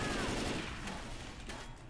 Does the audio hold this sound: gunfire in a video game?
yes